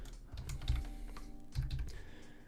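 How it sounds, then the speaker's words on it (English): Typing on a computer keyboard: two quick bursts of close, clicky keystrokes with a short pause between, heard alone. "I'm just going to write Trent because I can't be arsed typing his full name"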